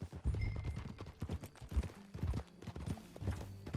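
Horse hooves clip-clop at a steady riding pace in the Red Dead Redemption 2 game world, close and fairly loud, with faint tack jingle and a brief whinny-like tone.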